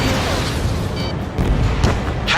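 A missile launches and detonates in the aerial combat game Ace Combat 7, heard as dense, loud rumbling blasts and bursts layered over continuous jet engine roar, close and booming.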